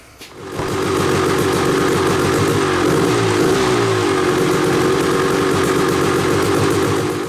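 A dirt bike engine kickstarted and catching after a moment, then running loud and steady at a rough, buzzing idle close by.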